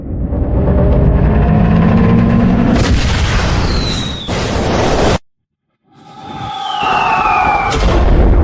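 Artillery bombardment in a fantasy war drama: heavy booming blasts roll on continuously and loudly, with descending whistling tones, then break off into a brief silence before another barrage erupts with more shrieking whistles.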